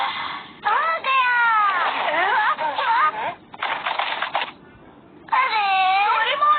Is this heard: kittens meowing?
yes